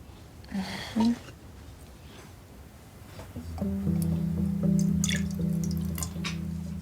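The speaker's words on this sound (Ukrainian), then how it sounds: "Налий воду в миску." Water pours steadily into a bowl, a gurgling, rising stream that follows a few faint drips and brief breathy sounds.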